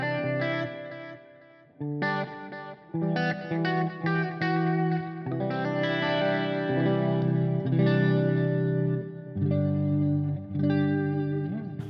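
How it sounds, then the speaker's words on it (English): An electric guitar plays a clean-tone delay patch on a HeadRush effects unit, chords and picked notes ringing out with echoing repeats that trail between phrases, alone with no talking. "Let me know if you like the sound of this clean tone"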